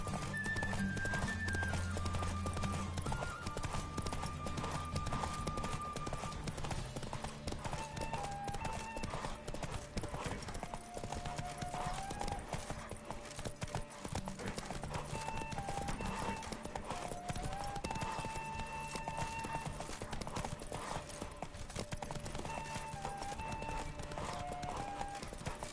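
Horse hooves galloping in The Witcher 3: Wild Hunt, a steady rapid clip-clop running throughout with occasional whinnies, layered over game music and ambient sound.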